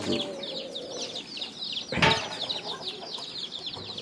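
Free-ranging country chickens being fed bran in the morning keep up a steady chorus of high peeping and soft clucking, with a brief burst of wing flapping or scuffling midway.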